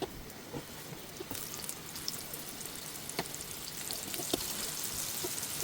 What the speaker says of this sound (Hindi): तो हम इसे शैलो फ्राई करेंगे